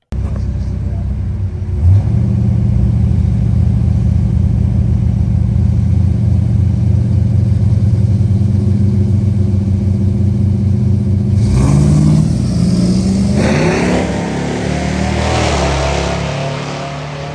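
A bracket race car launches down the drag strip at Knoxville Dragway during an IHRA points race, its engine rumbling at idle before revving hard and roaring away into the distance, with voices nearby.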